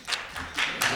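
A few scattered, sparse hand claps from an audience at a university leadership awards ceremony, several separate bursts rather than full applause.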